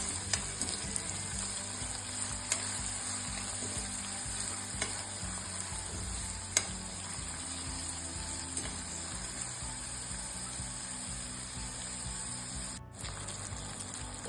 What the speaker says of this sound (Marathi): कांदा चांगला फ्राय करून घ्यायचा।